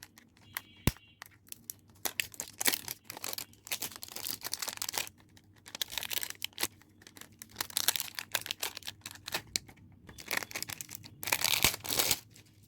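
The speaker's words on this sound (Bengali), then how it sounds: "তো চলুন এটা আনপ্যাক করে দেখি।" A pack of coconut hair oil being unpacked, with repeated bursts of plastic and paper crinkling and tearing, close and intermittent with short pauses between.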